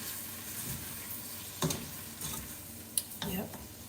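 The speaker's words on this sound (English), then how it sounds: "So now I'm going to add my full can of the rotel. And I'm going to stir that right in." A can of Rotel is stirred into a sizzling pan with a spoon. There are soft scraping strokes over a low fry, and a few sharp clinks of metal on the pan stand out.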